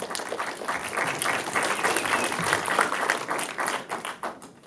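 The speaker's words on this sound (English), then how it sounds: "Big hand of applause for Mirror Image." Audience applause for a short film at a film festival shorts block, a crowd clapping steadily and warmly, swelling slightly in the middle before tapering off.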